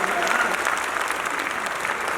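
Crowd at a Hindi poetry recital breaking into vigorous, sustained applause, lively clapping throughout with a faint murmur of the audience mixed in.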